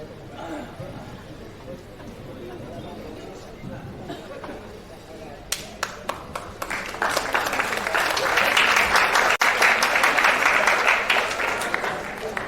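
At a church regional convention worship session, an audience applauds its chapter presidents: a few scattered claps follow earlier talk, then swell into loud, dense, sustained clapping to the end.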